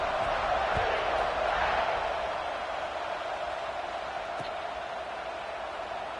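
A college football video game stadium crowd at an Ole Miss game gives a broad, steady roar that swells slightly early on and then settles into a constant distant murmur.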